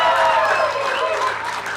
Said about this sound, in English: let's have a huge cheer for Metal Gear Solid